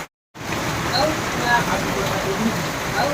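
Rain falls steadily in a dense, even patter after a brief dropout at the start, with occasional faint tones over the continuous hiss.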